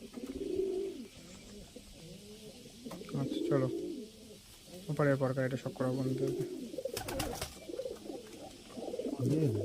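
Domestic pigeons, including Giribaz and Chhapka birds, cooing close by in repeated rolling bursts that overlap one another, while someone talks quietly over them.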